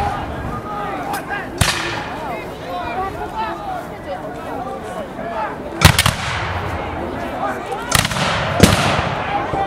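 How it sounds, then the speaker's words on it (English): Black powder muskets fire in a battle reenactment: several sharp, loud reports go off at irregular intervals, some close together, with lingering echoes over a crowd-like background and a person talking throughout. "The muskets will start to fire less and less accurately and less often as misfires"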